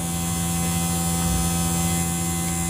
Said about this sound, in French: C'est mon ventilo.